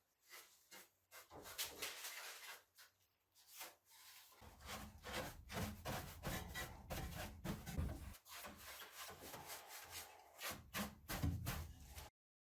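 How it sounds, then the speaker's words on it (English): A cloth wipes a layer of dust from a wood dresser being prepped for paint without sanding, making repeated close, brisk rubbing and scuffing strokes in an uneven rhythm with brief pauses. "Here I'm just cleaning off all this layer of dust"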